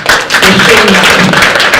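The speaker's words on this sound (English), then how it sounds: "Clap for yourselves." An audience at a women's empowerment morning event claps for itself, a loud, close burst of many hands with voices murmuring underneath through the short stretch.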